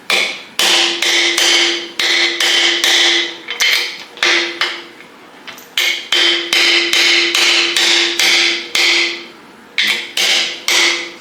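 Plugs are hammered into a bare engine block in steady, loud metallic strikes, repeated in rapid bursts with short pauses between sets and a ringing tone after each blow.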